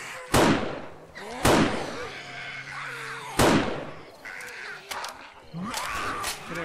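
Gunfire in the survival video game 7 Days to Die gives sharp, loud single shots, each with a quick fading tail, about four spaced over several seconds, with growling game noises between them.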